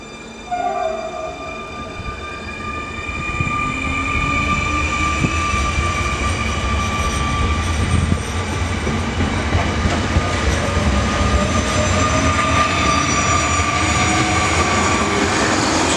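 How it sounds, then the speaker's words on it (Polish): Koleje Śląskie Elf electric multiple unit arriving at Myszków Mrzygłód station toward Częstochowa, with a rising electric motor whine, steady rail rumble and sustained tonal hum, close and loud. "O, podjechał akurat Elf Kolei Śląskich w kierunku Częstochowy."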